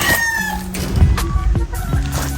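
A Golden Boy gamefowl rooster calls loudly and close by, giving a short harsh crowing burst followed by clucking notes, with no voices.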